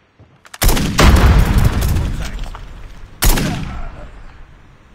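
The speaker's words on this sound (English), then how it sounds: "Grenade!" A grenade explosion in the shooter game Call of Duty: Mobile, a heavy close boom with a long rolling tail, then a second, smaller blast a few seconds later, no voices over it.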